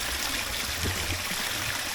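Steady rush of water flowing at a country waterhole in Jamaica, a strong, continuous broadband stream with gurgling texture, close and unbroken throughout with no talking.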